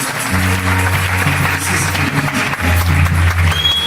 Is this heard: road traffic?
no